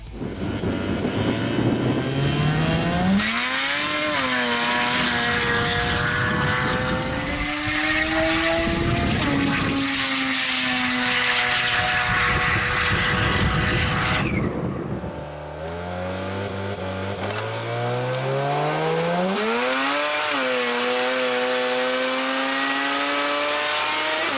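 Rotary-engined drag car at Drag Battle, loud high-pitched engine howl rising through gears with sharp pitch sweeps and a gear change near the middle, sustained and close.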